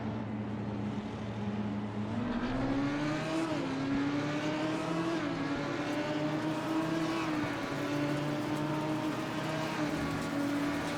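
Race cars roaring off the line at a racing game start at the Hungaroring, an Audi among them, a steady loud engine drone with rising, shifting pitch as the pack accelerates together.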